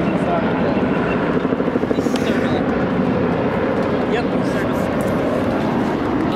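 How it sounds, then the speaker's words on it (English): An LAPD police helicopter flies overhead above the Los Angeles River, a loud, close, continuous rotor chop that fills the whole scene, with people talking under it. "third LAPD chopper"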